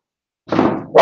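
A pet dog indoors gives a single short, loud bark after a moment of silence, and a second bark starts just as the sound cuts off.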